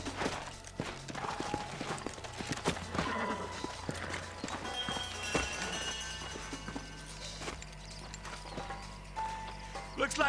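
Horses' hooves clip-clopping on the ground with a whinny, close by, under background music and some movement noises in a Red Dead Redemption game scene on Xbox 360.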